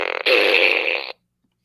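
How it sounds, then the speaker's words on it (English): A toy fart gun lets out a single loud, buzzy fart noise lasting about a second, preceded by a brief rougher burst, then silence. "The secret of this fart gun is it's a randomized fart noise"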